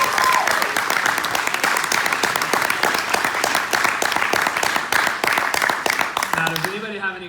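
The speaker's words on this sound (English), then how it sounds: "Huge round of applause for Jena." A live audience at a comedy-style business talk gives speaker Jena a loud, sustained round of clapping, with a voice breaking in as the applause fades at the end.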